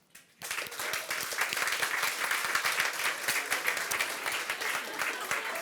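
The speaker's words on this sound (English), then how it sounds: "a big applause to our guests on stage, Lena, Marianne and Ubaid." Audience applause for guests on stage at a Copenhagen business talk event. It starts abruptly after a short silence and continues as steady, dense clapping from a sizable crowd at moderate level, with no voices over it.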